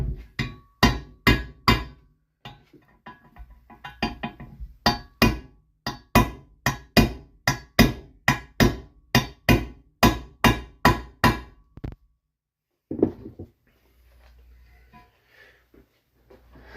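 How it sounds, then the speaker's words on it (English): Roughly two dozen sharp, close metallic taps in a steady rhythm as an NPT oil pressure fitting is knocked back into place on a 1995 Saturn SC2, then a pause, one last isolated tap and faint shuffling. "now we're just going to insert that back where it goes and give it a little tap with really anything"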